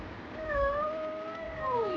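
A child imitating a cat, a drawn-out wavering meow voiced close and fairly soft, rising and falling over two seconds.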